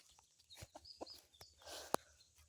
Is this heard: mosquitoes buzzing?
no